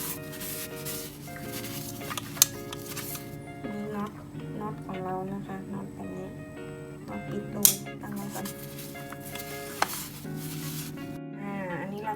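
Oil is wiped from an industrial sewing machine with tissue or cloth during an oil change: soft, repeated rubbing strokes sound close by, with occasional sharper knocks and a voice talking over them.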